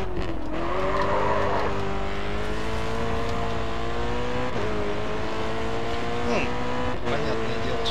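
A BMW racing and drifting in Grid 2 holds a steady engine drone with stepped gear-change pitch shifts, tire squeal and skidding at moderate loudness, with a voice talking over it.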